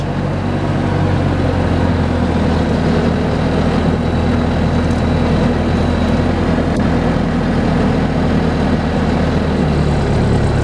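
A steady heavy low engine drone from a sawmill carriage moving boards and logs, loud and continuous, with no distinct gear change standing out in the sound.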